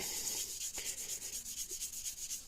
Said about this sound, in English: Don't be afraid when you're using a Scotch-Brite pad, especially a fine one, to go over it like crazy